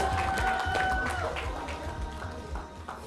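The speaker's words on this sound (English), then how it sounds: "give them a warm round of applause" A conference audience gives a round of applause, scattered claps that fade slowly, with people talking underneath.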